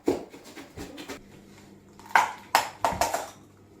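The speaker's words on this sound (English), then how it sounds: "And then give it a good stir." A mashed potato mixture is stirred in a bowl, giving several distinct knocks and scrapes of a spoon against the bowl, close and uneven, in short bursts with quiet gaps.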